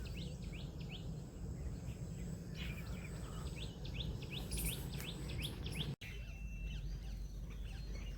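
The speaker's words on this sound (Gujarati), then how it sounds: "હવાર હવારમાં ભાઈ ચકલાનો અવાજ આવે છે" Sparrows chirp in quick repeated bursts in the morning against a constant insect drone on a farm, with a brief dropout partway through.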